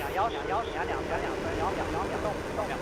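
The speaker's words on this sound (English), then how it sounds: "So 6 engines, 6 YF-100 engines ignite at the same moment." Six YF-100 engines ignite on a Long March 7 rocket at the Tianzhou 6 launch, a broad distant roar rumbling steadily beneath a voice talking throughout.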